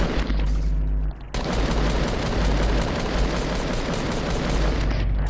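Rapid gunfire, likely in a shooting game, bursts in loud and close after a short pause and keeps up as a dense, continuous volley to the end.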